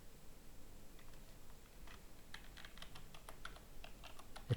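Quiet typing on a computer keyboard while entering a transaction description in accounting software, sparse keystrokes at first, then a quicker run of clicks, close and soft with no talk.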